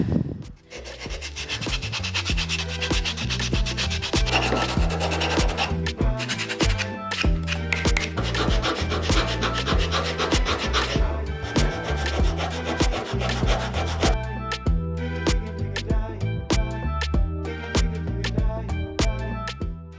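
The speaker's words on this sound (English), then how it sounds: "I'm gonna use basically a sanding block, which is a stick of wood, and a piece of sandpaper" Steady, vigorous rubbing of sandpaper wrapped on a wooden stick over a wooden dagger, a continuous close-up scratchy rasp with rhythmic back-and-forth strokes.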